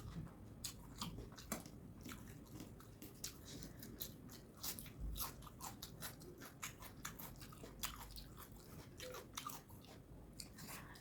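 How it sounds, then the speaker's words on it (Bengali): A crunchy fuluri fritter bitten and chewed during a Bengali meal of water rice and fish head curry, a close, quiet series of crisp crunches and wet chewing in uneven rhythm, with no talk. "এবার একটা ফুলুরি খাই।"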